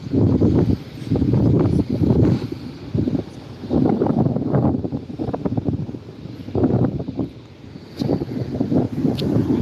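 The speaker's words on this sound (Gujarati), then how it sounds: "પવન જોરદારનો" Strong seaside wind at a beach in Diu buffets the microphone in loud, rumbling gusts that swell and ease in uneven waves.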